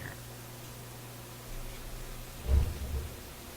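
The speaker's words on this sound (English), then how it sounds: "the sound of my furnace coming on, in case you're wondering what the thunder was" A home furnace kicks on with a deep rumble like distant thunder, rising briefly over a faint steady hum and hiss.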